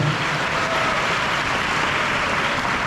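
Sustained, dense applause from a church congregation in a Korean service fills the space evenly and loudly, a steady wash of many hands with no talking over it.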